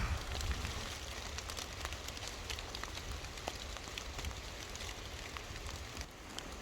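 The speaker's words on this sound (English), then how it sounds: "It just will not stop pouring rain" Heavy rain pours down steadily at a campsite, a dense continuous wash of drops drumming on surfaces with scattered louder splashes throughout.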